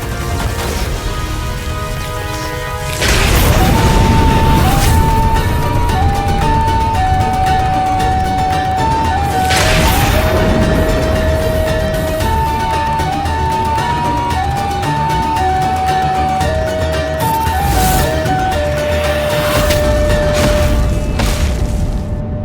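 Loud explosive booms burst out about every seven seconds over continuous melodic music.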